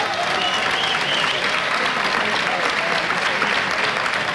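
Steady, dense applause from a large crowd at a 2013 League of Legends esports match, continuous and even throughout with no breaks.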